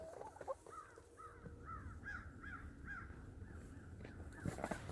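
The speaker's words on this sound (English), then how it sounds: "Crows up in the air flying." Crows caw repeatedly as they fly overhead on a cold winter day, a run of harsh calls spaced about every half second at moderate distance over steady outdoor background noise.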